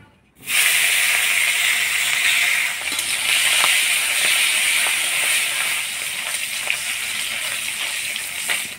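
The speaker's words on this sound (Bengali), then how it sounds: "শুটকি মাছ একটু ভাজা ভাজা করে নিলাম" Dried fish coated in turmeric and salt sizzles in hot oil in a wok, a loud steady hiss that starts abruptly and holds, with a few faint scraping clicks from stirring.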